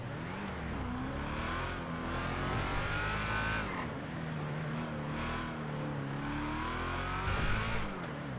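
Several cars drive in the GTA video game, with engines revving and shifting pitch as they accelerate, plus a brief tire squeal, loud and continuous throughout, with no talking.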